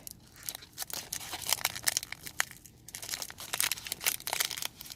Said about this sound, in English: it's time to open the card pack